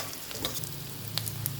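Bitter gourd cooks with spices in a pan, making a faint, brief sizzle with soft stirring scrapes and a couple of small ticks, quiet and close.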